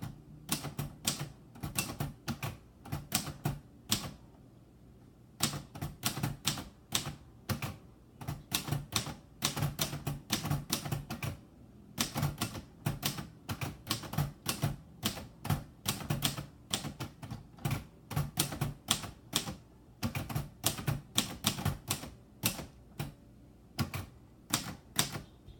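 Rapid keystrokes clatter on a 1955 Royal Quiet DeLuxe manual typewriter, typing a mix of uppercase and lowercase letters, with steady bursts of crisp key strikes and brief pauses, close and alone.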